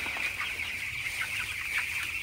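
Fifteen-day-old broiler chickens cluck and chatter softly on a farm at night in cold weather, a continuous dense murmur of many birds with a steady mechanical hum beneath.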